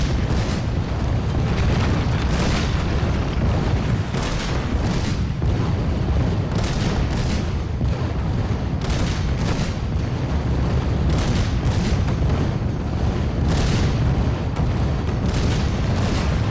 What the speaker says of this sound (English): I guess you're sort of supposed to dodge and avoid the barrage of cannon fire at you